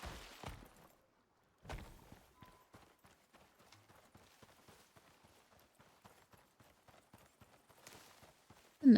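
Horse hooves clip-clop in a video game, a faint, regular run of light hoofbeats after a couple of louder thumps, with no speech.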